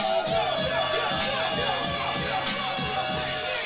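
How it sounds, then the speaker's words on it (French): A live boxing crowd at a Silvertooth Promotions fight grows excited and cheers, a loud swell of shouting and cheering voices mixed with commentators talking over the noise. "la foule qui s'anime vraiment là"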